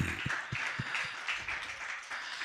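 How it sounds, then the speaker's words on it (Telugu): A church congregation claps in praise, steady rhythmic handclaps about twice a second, loud and fairly close, with no voices over them. "గట్టిగా చప్పట్లు కొడుతూ ప్రభు నామాన్ని మహిమపరచండి"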